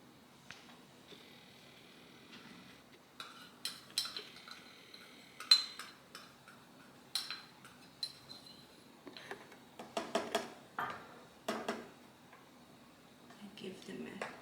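A utensil clinks and taps faintly against a bowl in irregular bursts as ingredients sweetened with stevia are stirred together, quiet and close with short pauses between strokes.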